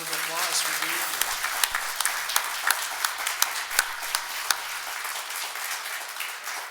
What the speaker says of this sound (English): I want to give you a round of applause for being here